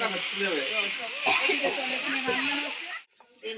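Luchi fry in hot oil with a steady loud sizzling hiss and bubbling. It cuts off sharply near the end, where voices talk briefly.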